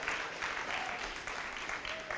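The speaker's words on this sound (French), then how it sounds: "On donne une bonne main d'applaudissement à notre quatuor." Congregation at a church service applauding a vocal quartet, brief steady hand clapping filling the room with a faint voice rising above it.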